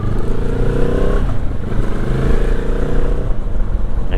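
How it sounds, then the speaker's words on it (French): Benelli TRK 702 X motorcycle exhaust while riding, a steady low engine drone with shifting harmonics that holds loud and close throughout, easing and rising slightly in pitch without any voices. "C'est un bruit d'échappement plus qu'un bruit de moteur"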